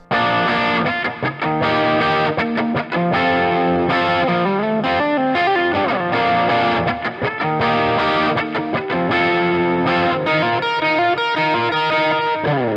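Electric guitar with a crunchy, slightly driven tone plays busy chord strums and short riffs continuously, loud and up close, with no voices.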